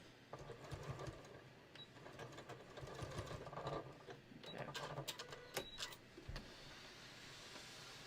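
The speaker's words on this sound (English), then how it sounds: "you're just sewing that little triangle to the pocket bag" A sewing machine stitching a small triangle onto a pocket bag for a beach tote, running in quiet bursts of rapid mechanical whirring with faint clicks between stops.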